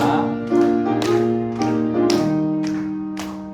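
A church congregation at a Sunday morning service claps in a steady, regular beat along to a hymn, the claps falling about every half second over sustained instrumental music.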